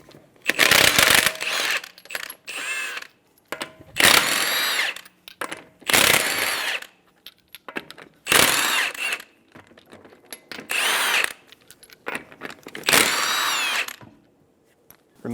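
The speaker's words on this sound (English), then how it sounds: "Using a 21mm socket, remove the lug nuts." Power tool spinning a 21mm socket to remove lug nuts from a 2007-2011 Toyota Camry wheel, loud repeated bursts of whirring and rattling impact, about seven separate runs with short pauses between them, no talking.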